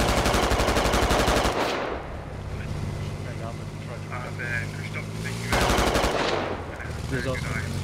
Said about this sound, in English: Point blank shot on the BTR.